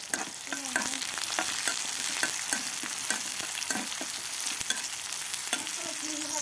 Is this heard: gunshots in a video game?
no